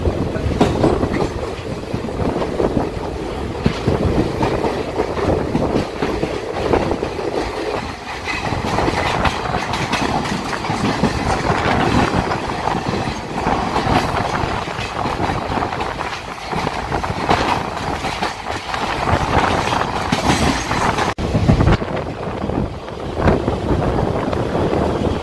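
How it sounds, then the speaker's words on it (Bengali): Silchar Express rolling through Dum Dum Junction without stopping, a steady loud rumble and rhythmic clickety-clack of wheels over rail joints heard from aboard the train, with wind buffeting throughout. "ট্রেনটি এই মুহূর্তে দমদম জংশন স্কিপ করছে বন্ধুরা"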